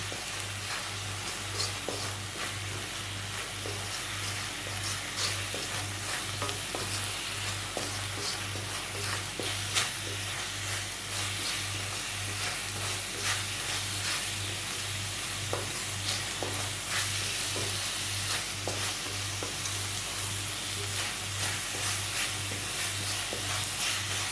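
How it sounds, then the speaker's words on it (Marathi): Egg masala base of tomato, onion, chili and spices being stir-fried, a steady loud sizzle running throughout with frequent scraping and clinking of the stirring utensil, heard alone without talk. "आता आपण त्यामध्ये बाकीचे मसाले घालून घेऊया आणि मीठ पण. आणि हे व्यवस्थित परतूया."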